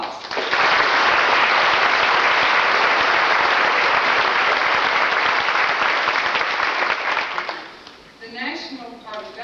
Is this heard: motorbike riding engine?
no